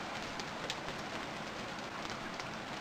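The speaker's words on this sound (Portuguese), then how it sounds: "Milagrosamente, a chuva não apaga a fogueira, mas eu tô molhado. Eu tô na chuva." Steady rain falling in the survival video game Stranded Deep, an even, dense hiss of drops hitting surfaces that continues without break at moderate loudness.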